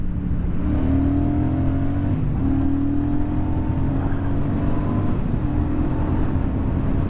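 A 2024 Royal Enfield Super Meteor 650 motorcycle on the road, its steady engine drone rising and falling in pitch through gear changes, loud and continuous with wind noise and no talking.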